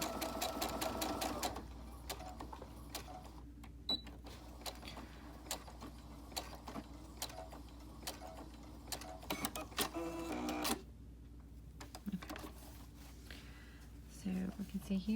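Close and steady, a sewing machine whirs for long runs as it stitches a three-layer ninja-style fabric pocket mask, with brief pauses and small fabric handling noises, while someone talks quietly near the start and end.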